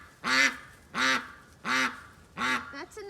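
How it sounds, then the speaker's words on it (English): Four evenly spaced, loud nasal quacks from homestead ducks in their coop sound close by in a steady rhythm, followed by a softer fragment at the end. "I got these loud ducks behind me."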